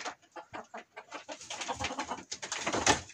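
A neighbour's hens cluck in a steady run of short, close calls, building denser and louder toward the end, with no talk over them.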